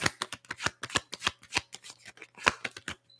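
Tarot cards being shuffled by hand: a quick series of about twenty crisp, papery riffles and slaps in an uneven rhythm, close and clear with no talking.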